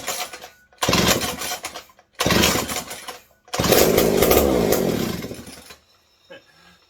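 A McCulloch 740 chainsaw, just fixed after a bad ignition, runs in three loud, ragged bursts of engine roar separated by brief pauses. The last and longest burst cuts off into near silence.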